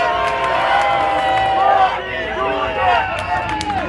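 A crowd of fans at a Virada Cultural 2013 street battle cheers and shouts for Trovão, a loud, dense roar of voices with whistles and yells rising and falling over a few seconds.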